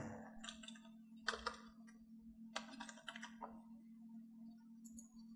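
Typing on a computer keyboard, quiet, close clicks in short irregular bursts separated by pauses, over a faint steady background hum.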